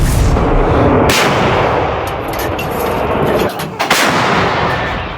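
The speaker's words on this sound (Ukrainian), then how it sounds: "Постріл!" A very loud blast from a 2S1 Gvozdika self-propelled howitzer booms close by, followed by a rolling, rumbling echo that fades over several seconds.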